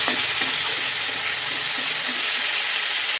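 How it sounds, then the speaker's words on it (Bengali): Chopped tomatoes fry in a pan with spices including mustard, green chilli and ginger paste. A loud, continuous hissing sizzle carries faint stirring taps and ends with an abrupt cutoff. "টমেটো কুচিটা নরম না হওয়া পর্যন্ত একটু ভেজে নিতে হবে"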